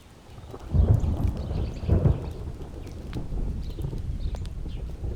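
Rain falls steadily while deep thunder rumbles roll in twice, loud and close, with the downpour continuing on its own afterward and no voices.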